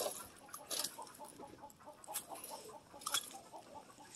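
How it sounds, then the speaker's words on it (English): Chicken clucking softly at moderate distance, a few scattered clucks over a busy indoor background with some rustling. "Look, even the chicken came to say hi."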